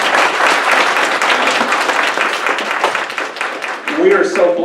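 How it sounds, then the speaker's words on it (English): Audience applause at a community business event, with sustained clapping from a sizeable crowd. It fades slightly before a voice begins speaking near the end. "Give them a round of applause"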